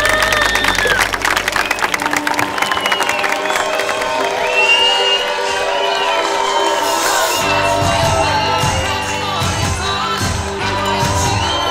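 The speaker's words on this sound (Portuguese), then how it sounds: "Uma salva de palmas aos noivos." Wedding guests cheer, whoop and clap for a newlywed couple over loud music, with a crowd's shouts and applause blending into a steady celebratory din; a beat kicks in partway through.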